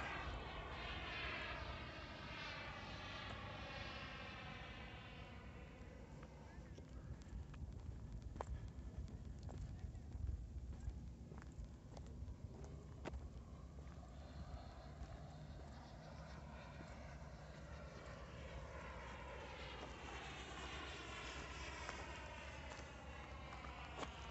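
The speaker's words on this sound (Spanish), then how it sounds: "aviones haciendo maniobras militares de una base que hay por aquí cerca" Military jet aircraft from a nearby base roar overhead while maneuvering, the engine tone sweeping and shifting as planes pass at a distance, a continuous rumbling drone with no one speaking.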